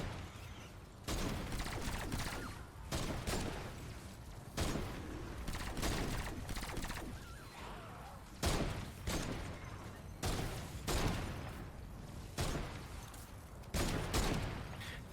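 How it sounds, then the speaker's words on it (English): Repeated dart and gun shots in Fortnite Save the World during a Hit the Road escort mission, loud bursts recurring every second or two over steady game noise and effects. "And I would shoot a dart here"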